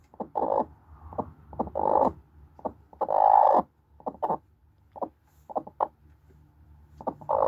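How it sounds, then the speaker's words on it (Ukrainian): A broody hen clucks in short, soft bursts with irregular pauses, close by, interspersed with a few longer drawn-out murmuring calls. "Тільки та й роба, що тут сидить, квокче і більше нічого не робить."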